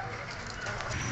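Royal Teddy pigeons in a loft, steady low cooing and rustling close by, continuous broadband bird noise throughout the short stretch.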